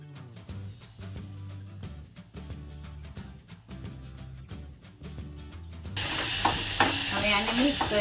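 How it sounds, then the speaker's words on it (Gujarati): Ivy gourd and chilli relish being tempered with asafoetida and turmeric in a pan: quieter stirring gives way to a sudden loud, continuous sizzle that fills the last couple of seconds. "અને હવે વઘાર।"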